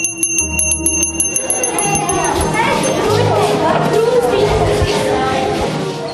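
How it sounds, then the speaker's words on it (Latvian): A small bell rings repeatedly with a bright, metallic tone before a meal, then fades under the chatter and clatter of a crowded room. "omulīgo runāšanos pārtauc zvaniņa skaņas, kas aicina visus uz kopīgu mīlestību"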